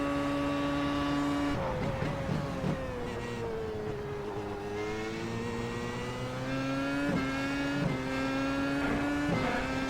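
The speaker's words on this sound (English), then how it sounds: "Having to tickle the throttle there on the exit of Tamburello" Williams FW31 Formula 1 car's engine held at partial throttle in a racing video game, a steady high-pitched whine that dips, wavers and climbs again as the revs shift, loud and continuous with no talk.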